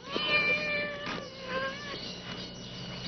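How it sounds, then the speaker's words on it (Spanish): Domestic cat meowing in a film scene, several drawn-out, wavering meows close by over a low background hum, with no talking. "Gonzalo, suelte ese gato."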